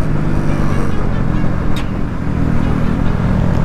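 A steady, loud motorcycle engine drones as the bike rides along a road, with dense rumbling and wind noise throughout and no clear breaks.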